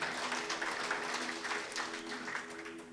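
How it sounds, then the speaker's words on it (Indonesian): Church congregation applauding during an Indonesian worship service, dense steady clapping that holds for a few seconds and eases slightly toward the end, with faint voices mixed in. "Tepuk tangan bagi Tuhan."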